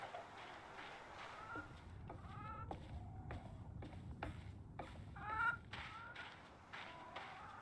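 Chicken in the video game REKA clucking in a rapid run of short, choppy clucks over a low rustling background, fairly close and moderately loud, with no talking.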